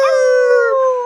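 A Japanese voice actor imitates a wolf howl in the anime Brand New Animal: one sustained, steady, tonal howl with rich harmonics that holds its pitch for about a second, close and loud, with no talking.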